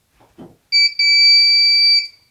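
An electronic buzzer sounds when voltage is applied: one short beep, then a steady, piercing tone lasting about a second, loud and alone.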